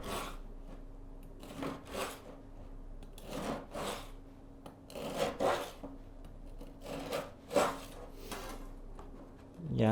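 A knife cuts a baked cantuccini dough log into diagonal strips in a home kitchen, making a series of close, soft rasping strokes that come in uneven bursts over a low background hum.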